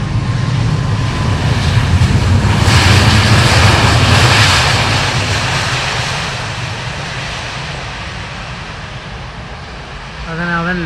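A passenger airplane lands at an airport, its engine roar swelling loud over the first seconds and then easing into a steady, fading rumble, with a brief voice near the end.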